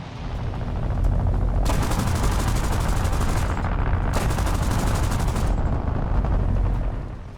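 Aircraft guns fire in long rapid bursts, a dense roaring rattle of automatic gunfire that breaks off briefly and resumes, loud and sustained.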